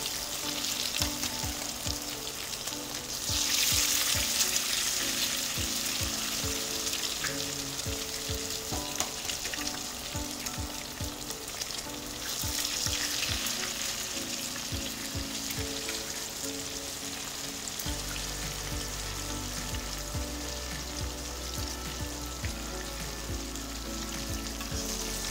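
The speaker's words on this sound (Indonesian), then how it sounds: "Saya mau goreng telurnya" Flour-coated eggs frying in hot oil give a steady, dense sizzle and crackle that runs throughout, with a few scattered pops and no voices.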